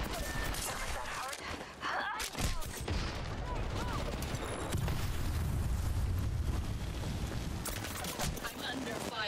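Automatic rifle gunfire in the video game Apex Legends Season 11, rapid bursts and booming impacts dominating the mix while players talk over it.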